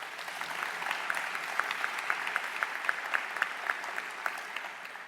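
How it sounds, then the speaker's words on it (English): A symposium audience claps for a medal winner at a closing plenary, a steady round of moderately loud applause with crisp individual claps standing out, lasting about five seconds. "So a round of applause for him."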